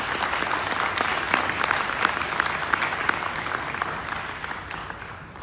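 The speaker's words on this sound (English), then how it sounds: "Please join me in a round of applause for thanking the City Council for their support." A gathered audience gives a round of applause to the City Council at a civic leadership event, a full, close burst of many hands clapping that stays strong and then starts to taper near the end.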